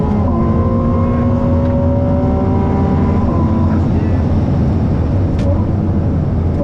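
A Ferrari 296 GTB with turbo and electric-motor assist drives under throttle, its loud engine drone holding close and steady with shifting, sliding tones over continuous road and wind roar.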